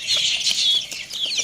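Roosters and chicks at a backyard bird enclosure, pecking at watermelon rinds, with soft, scattered clucks and chirps alongside flapping and rustling, close and steady throughout.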